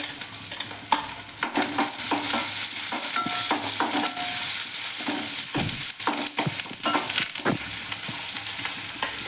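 Curry leaves, beans and carrot sautéing in oil for a wheat rava kichadi, with a steady close sizzle broken by frequent scraping stirs of a spoon against the pan, no voices.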